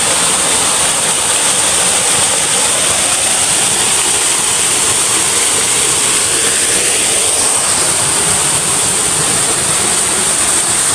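Loud, steady roar of a waterfall on a rural property with clear water, continuous broadband rushing that holds unchanged throughout with no voices.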